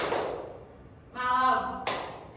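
Children play a clapping game in a classroom, with a couple of sharp clap bursts at the start and near the end and a child's sung chant in between.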